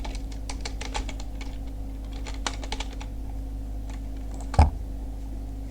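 Computer keyboard typing while writing HTML code, bursts of close, crisp key clicks in uneven clusters over a steady low electrical hum, with no speech.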